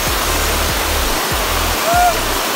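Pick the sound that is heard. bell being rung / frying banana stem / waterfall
waterfall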